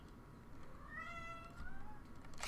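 Indoors, a domestic cat gives one drawn-out meow with a rising then falling pitch, faint and fairly close, over a quiet room background.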